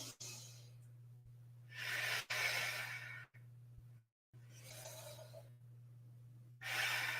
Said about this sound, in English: You might hear my breath.